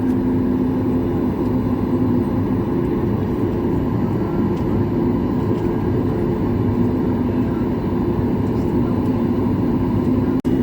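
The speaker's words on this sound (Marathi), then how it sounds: "अजून एक विमान उतरलं." A loud, steady jet engine roar drones continuously as an airliner passes close overhead while landing at Vancouver, with no clear pauses.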